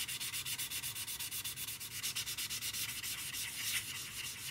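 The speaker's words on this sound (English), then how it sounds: "sand this down. And then you can see it's starting to sheen up a bit" Light hand sanding of a Tamiya P-47M plastic model with 1500 grit paper, a close, quiet rhythmic scratching of quick even back-and-forth strokes, with no voices.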